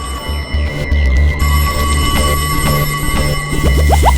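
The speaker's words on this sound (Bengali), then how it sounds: "ওহ, আবার ফোন।" A cartoon telephone rings loudly in a steady repeating bell pattern, filling the moment alone and close up, with bouncy comic sound effects near the end.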